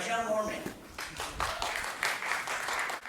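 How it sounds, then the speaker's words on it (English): Audience applause greeting a scientist invited to speak at the Globe, a busy crowd of hands clapping briefly under a voice, then fading. "How about a nice round of applause for Michelle Moorman?"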